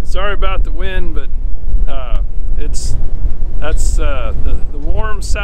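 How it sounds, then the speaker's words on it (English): A strong, warm south wind buffets the microphone on a winter farm, making a constant low rumbling roar beneath nearly continuous talking. "the warm south wind has arrived, and so it's very windy here today"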